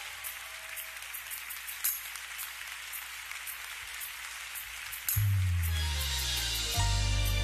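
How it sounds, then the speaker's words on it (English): A church congregation applauds together in a room, a steady wash of many hands clapping that continues throughout, with music swelling in beneath it during the final seconds. "Applaud God in this room, everybody"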